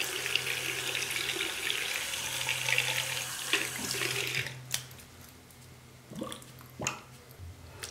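Tap water streams into a sink while makeup brushes are rinsed and squeezed. The flow is steady at first, then gives way to intermittent splashes, squishes and drips as the water is turned down.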